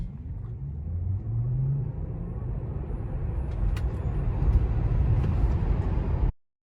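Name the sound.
Tesla Model 3 rear wheel drive accelerating 0 to 60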